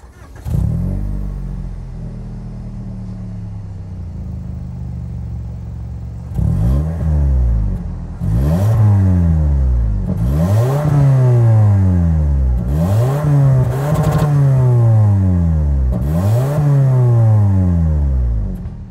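A 2023 Toyota Camry XSE's 2.5-liter four-cylinder engine starts and settles into a steady idle, then gets blipped through about six quick, close, loud revs that each swell and fall back.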